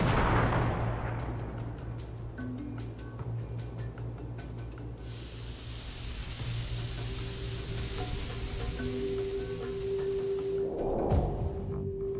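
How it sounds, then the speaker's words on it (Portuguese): A loud gunshot-like blast as a shotgun fires an explosive cartridge, followed by a long rumbling, hissing roar that trails off, then another muffled burst near the end. "o cartucho explosivo é disparado da espingarda."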